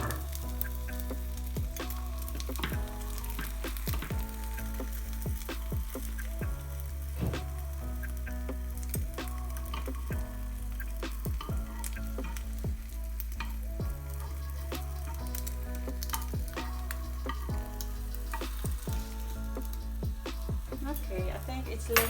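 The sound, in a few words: eggs frying and sizzling in a pan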